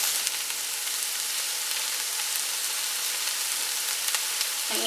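Jimmy Dean original ground pork sausage, still partly frozen, sizzles steadily in a pot for a bean soup, a dense even hiss with no talk over it.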